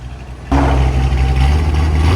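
A 1969 Chevy Corvette V8 fitted with headers and a Borla Atak exhaust idles quietly, then abruptly rumbles louder and holds a deep, steady, close-up exhaust note.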